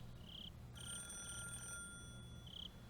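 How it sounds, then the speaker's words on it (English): A telephone rings in the visual novel game Higurashi, with short electronic trilling bursts repeating at intervals against a quiet, low background hum, thin and fairly faint. "The phone was still ringing."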